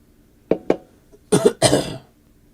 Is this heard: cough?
yes